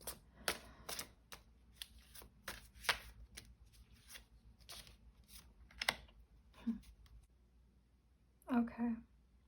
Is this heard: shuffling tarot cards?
yes